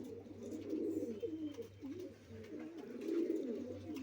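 Soft, continuous pigeon cooing, several birds murmuring in low rolling phrases close by, with a steady faint hum underneath.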